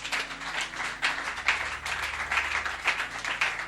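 A church congregation at a Sunday worship service applauds with steady, dense clapping, sustained and fairly loud throughout.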